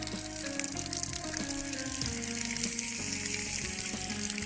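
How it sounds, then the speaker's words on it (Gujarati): A leaking water-line valve sends out a continuous hissing, splashing gush of escaping water. It sits close and steady, with faint background tones running beneath it. "કોઈક પાણીની લાઈનનો વાલ લીકેજ છે"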